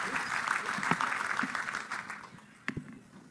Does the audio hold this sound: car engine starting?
no